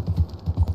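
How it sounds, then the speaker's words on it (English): Horse hooves clip-clop steadily in Red Dead Redemption 2 as the animal is ridden, a close, even rhythm of about six soft thuds in under a second. "That's a good horse."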